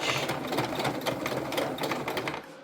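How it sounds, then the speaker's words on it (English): Close, loud sewing machine runs a reverse stitch on a tote bag, a rapid steady clatter of needle strokes that fades out at the end. "when you get to the end, don't forget to do your reverse stitch"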